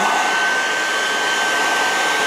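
A blow dryer runs in one steady, loud, unbroken whir, close up, with no other sound and no one talking.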